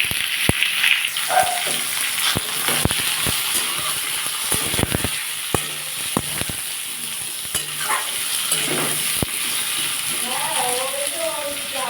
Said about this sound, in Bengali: এবার এর মধ্যে আমি আলু পেঁয়াজ একসাথে দিয়ে দেবো দিয়ে এটাকে ভাজবো